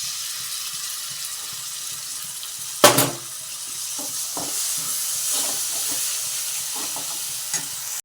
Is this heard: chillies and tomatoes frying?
yes